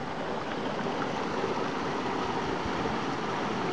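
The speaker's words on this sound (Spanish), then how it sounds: "El agua maravilloso." Water flowing along a stream in Santa Elena, a steady broadband rush that stays even and continuous from start to finish, with no voices over it.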